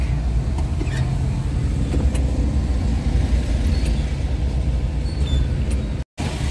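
Dense road traffic in San Simon. Cars and buses rumble past in a steady, loud wash of engine and tyre noise, with faint higher squeals now and then and no talk.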